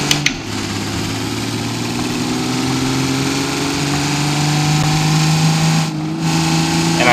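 A 2003 Ram 3500 truck in the BeamNG driving game accelerates, its engine droning loud and steady with a slowly rising pitch, and a brief dip as it shifts near the end.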